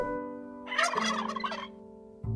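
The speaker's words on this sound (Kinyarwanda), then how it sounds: "Twitwa dendo, turi 10." A turkey gobbles in one loud, close, rapid rattling burst, heard alone with a steady tonal hum before and after it.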